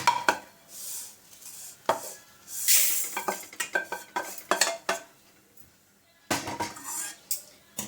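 Roasted urad dal is scraped from a pan into a basin with a metal spoon, giving a string of sharp, close scraping and clinking strokes with brief quiet gaps between them.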